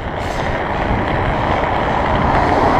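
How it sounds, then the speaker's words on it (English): Steady roaring wind buffeting the microphone, a continuous broadband rush with no gaps, loud and close. "We got a north wind"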